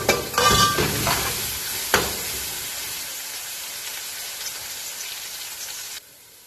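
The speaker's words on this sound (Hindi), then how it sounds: "अब हमने इसको हल्का सा भूनना है ताकि लहसुन अदरक की स्मेल मर जाए" Oily sizzling and frying of garlic ginger paste in a pan with a few scraping stirs early on, settling into a steady hiss that cuts off near the end.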